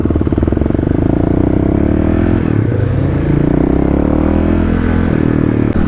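A Kawasaki KLX351 motorcycle engine idles with its secondary throttle plate removed, idle raised slightly, giving a loud, steady, close thumping drone with a brief dip in the middle.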